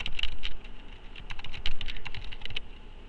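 Computer keyboard typing, close and crisp, with quick irregular clusters of key clicks broken by a short pause.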